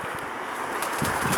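Pigeons coo softly outdoors at a morning feeding spot, with some wing flapping and other birds mixed into a steady background hiss.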